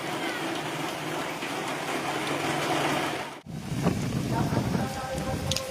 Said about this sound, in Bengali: যে পরিমাণ বৃষ্টি হচ্ছে